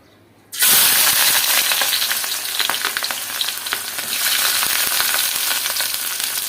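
Onion and green chili hitting hot oil for a dried-fish dish, an abrupt loud burst of sizzling that stays dense and crackling, easing slightly then swelling again, with no voices.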